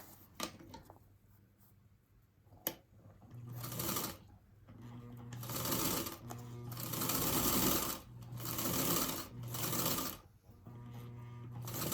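A sewing machine stitches a quilt block in repeated runs, its needle clatter rising and falling in loudness with short pauses between bursts, heard close and alone.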